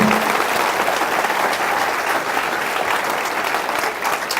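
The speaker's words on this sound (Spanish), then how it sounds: "¿Por qué no le dan un aplauso a Dios por eso?" Steady applause from a church congregation, dense clapping at an even level throughout with no voices standing out.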